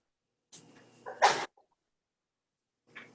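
A single sharp sneeze from someone off-mic during a zoning board meeting, preceded by a brief intake and followed by quiet, with another faint sound trailing a moment later.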